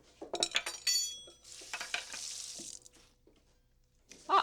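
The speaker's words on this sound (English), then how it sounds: "So just fold all the dry ingredients through until you've got a nice fluffy batter." Dry ingredients being folded through a stiff batter in a bowl, with soft scraping and wet squelching strokes, a few sharper clinks and a brief slosh, close and moderate in loudness with no talk.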